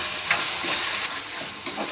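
Tomatoes sautéing in a pan for prawn masala give a steady, moderate sizzle and hiss with a few faint clinks of stirring, with no voices.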